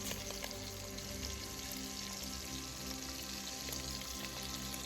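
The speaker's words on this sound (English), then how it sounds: "You'll hear the sizzle, and you just want to brown it." Short ribs browning in bacon grease give a steady, faint, even sizzle with tiny pops throughout.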